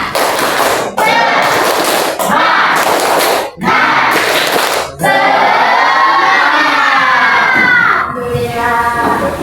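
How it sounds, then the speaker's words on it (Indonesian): Classroom of schoolchildren doing a spirit clap chant, loud bursts of rhythmic group clapping followed by children chanting and shouting together in unison. "Tepuk semangat."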